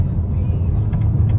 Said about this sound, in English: We are driving to the gas station now after the purge solenoid install.